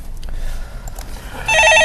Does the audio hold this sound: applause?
no